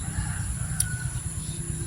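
Backyard chickens cluck softly in the background, with a brief high rooster call partway through, faint and fairly distant.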